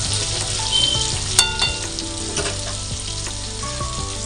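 Pointed gourd and potato frying in hot oil, a dense continuous sizzle up close with a few sharp utensil clinks and scrapes.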